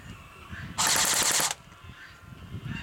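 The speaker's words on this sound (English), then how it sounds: "let's check out this gun's rounds per second and its rate of fire" A DBOYS PDW airsoft gun fires one loud, rapid full-auto burst of about three quarters of a second, its shots tightly spaced and even, with quiet room noise before and after.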